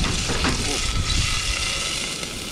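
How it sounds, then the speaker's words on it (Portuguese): Onion going into a pan where garlic is already frying, giving a steady broadband sizzle that runs the whole time, with a little stirring and faint voices underneath. "Começou a fritar. A gente coloca a cebola."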